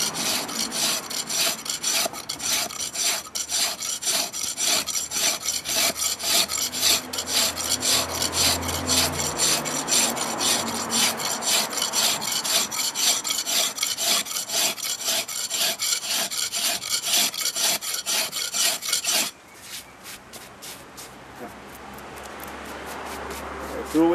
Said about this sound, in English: Yeah, and then we go to the rough filer. The rough filer makes it even smoother from the chisel.